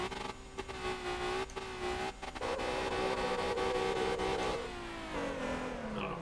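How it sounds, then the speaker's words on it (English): Drift car engine in the MotorTown video game with the soft rev limiter turned off, a steady high-pitched revving drone near the limiter with brief dips and surges, heard alone with no talking. "you turn off the soft rev limiter, and now you get what actually should sound like a car"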